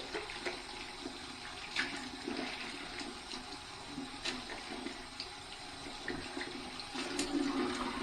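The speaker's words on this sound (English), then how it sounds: "So I just want to clean this brush out as quickly as possible." A shaving brush is rinsed under running water, a steady, fairly faint stream of splashing that keeps on throughout with small bursts of splatter.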